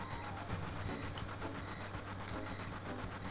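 Train in the Final Fantasy VII video game, a short burst of steady rumbling rail noise with faint rhythmic clatter and a couple of sharp metallic ticks.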